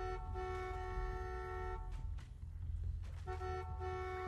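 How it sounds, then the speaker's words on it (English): Car horn in The Walking Dead video game, a long, steady honk that cuts off briefly and starts again, over low background rumble. "Honk it."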